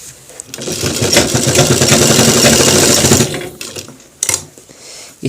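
A sewing machine stitching a pant belt with grip, a loud close motorized whir running for about three seconds, then stopping, followed by a few short clicks and handling sounds.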